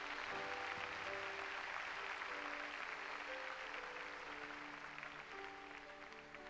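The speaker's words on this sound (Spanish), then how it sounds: "Denle un aplauso grande al Señor." Church congregation applauding during a Sunday evening service, a dense, steady wash of clapping throughout with musical tones sustained underneath.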